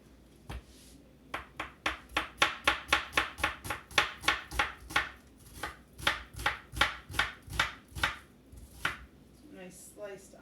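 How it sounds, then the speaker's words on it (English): A knife slices through an onion on a cutting board in a steady run of about twenty crisp, even chops, close and clear, with brief pauses at the start and end. "Nice sliced onion."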